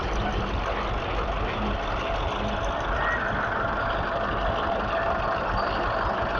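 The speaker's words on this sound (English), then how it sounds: "Another power major coming through." A Fordson Power Major tractor drives past at a steam rally, its heavy diesel engine giving a steady, continuous low rumble throughout, fairly close and loud, with broadband outdoor noise mixed in.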